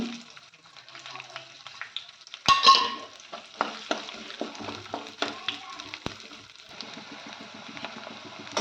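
Sliced onions fry in a pan for masala bhendi curry, a soft sizzle under scraping stirs and a few sharp clinks, while a person talks throughout.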